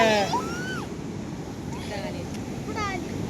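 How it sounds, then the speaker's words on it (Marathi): Low, rumbling roar of sea surf at Harihareshwar on the Konkan coast, with gusts of wind, as voices talk briefly over it. "समुद्राच्या लाटेचा जोर एवढा असतो"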